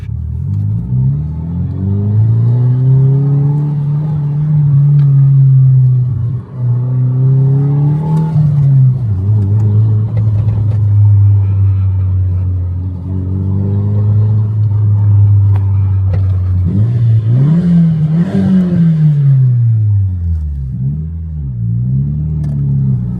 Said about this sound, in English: This exhaust is definitely louder than my 34 GT-R